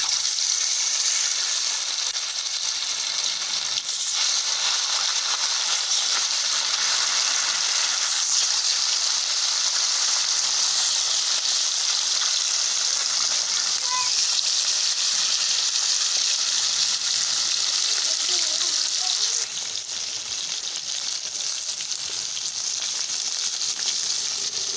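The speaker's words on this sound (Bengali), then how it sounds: "এখন মাছগুলো ভেজে নেব।" Fish rubbed with salt and turmeric fries in hot oil, giving a steady, loud, close sizzle and hiss that runs unbroken throughout, easing slightly near the end.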